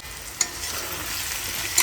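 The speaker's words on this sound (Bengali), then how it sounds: "এখন ভালো করে ভেজে নিই যাতে মশলার কাঁচা গন্ধটা না থাকে" A ground paste of garlic, cumin and dried red chilli fries in a very hot kadai, giving a loud, continuous close hiss with two brief clicks of the pan or spoon.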